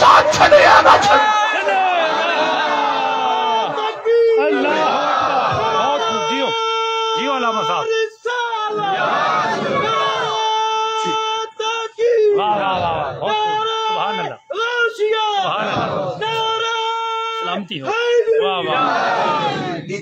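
A large crowd at a religious speech gathering in Pakistan chants slogans loudly in rhythmic rising and falling bursts of massed voices, repeated throughout with brief pauses between calls.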